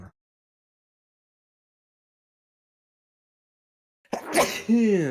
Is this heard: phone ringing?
no